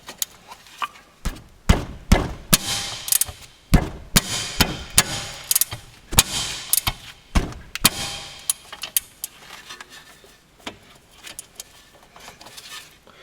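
A wrench falls while a 17 mm brake caliper bolt is being removed from a Subaru front hub. It lands in a burst of loud metallic clanks and thuds, then bounces and rattles more faintly as it settles.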